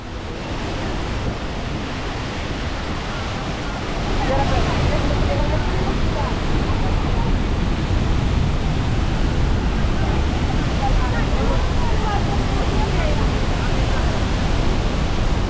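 Thoseghar waterfall in Satara during the monsoon, a loud, dense, continuous roar of falling water that swells after the first few seconds and stays steady, with wind buffeting the microphone.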